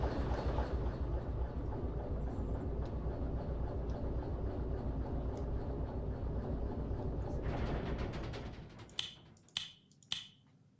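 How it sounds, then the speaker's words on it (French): A locomotive in the train simulation game Derail Valley rumbles steadily for about eight seconds, then the noise fades and three sharp, separate clicks follow near the end, with no talk. "je mets mon petit loco en véhicule"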